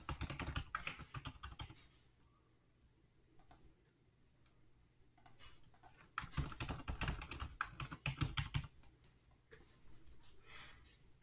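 Typing on a computer keyboard while setting up Ubuntu in VirtualBox, quiet close-up bursts of key clicks with short pauses between, growing busier in the second half.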